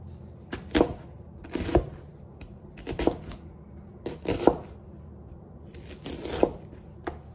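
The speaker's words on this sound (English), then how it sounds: "Let me cut this little piece off." A knife cuts through an onion on a cutting board in a home kitchen: several crisp, separate chopping strokes spaced about a second apart, close and fairly clear, with no talking.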